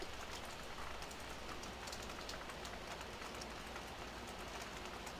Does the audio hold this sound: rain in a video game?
yes